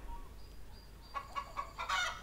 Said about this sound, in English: It sounds like a chicken?